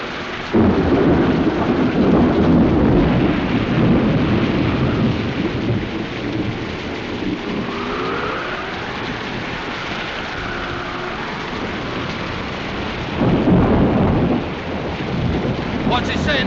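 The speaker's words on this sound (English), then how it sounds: "It's too dangerous in the storm." Heavy thunderstorm with steady rain and deep rolling thunder, loud and continuous throughout, with a stronger burst of rain and rumble near the end.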